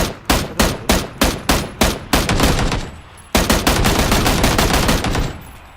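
Gunfire in a battle royale game: a string of loud, evenly spaced single shots followed by sustained rapid automatic bursts after a brief pause.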